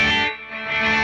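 A guitar processed through a non-linear gated reverb on a Line 6 Helix rings out in a bright, dense burst that dips briefly and swells back before the clip ends.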